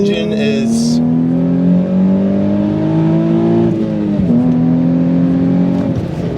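A Nissan 350Z engine hums steadily under load, its tone shifting up and down a few times as it revs, loud and close throughout.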